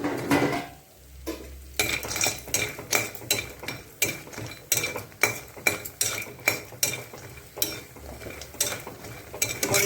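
Bori, lentil dumplings, frying in mustard oil, with repeated clinks and scrapes of a utensil stirring in the pan over a steady hiss, close and fairly loud.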